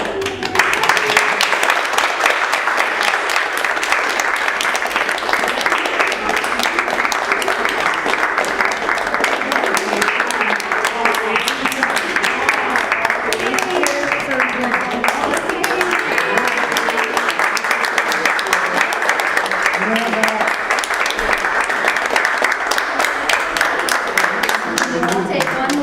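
After an adaptive recreation theater play, an audience applauds with steady, sustained clapping throughout, a dense wash of hands with some voices mixed in.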